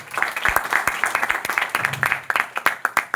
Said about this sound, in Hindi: बात समझ में आ रही तो जोरदार तालियां हो जाए आप सबके लिए